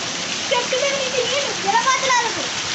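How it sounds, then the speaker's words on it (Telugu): Steady, dense rain hisses and patters throughout while someone talks over it. "మా ఊర్లో వర్షము ఇదిగోండి ఇదిగోండి వాన ఎట్లా పెడుతుంది చూడండి"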